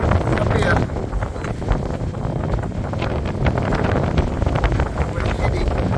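A sailboat moving through open water off Guadeloupe gives a constant heavy rush of wind buffeting the microphone, mixed with water wash and hull noise, loud and unbroken throughout.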